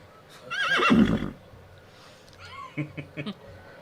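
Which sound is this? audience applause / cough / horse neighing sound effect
horse neighing sound effect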